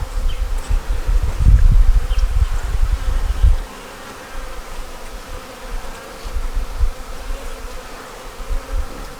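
Honeybees buzz steadily up close, a loud droning hum that swells early on, then settles into a softer, continuous buzz.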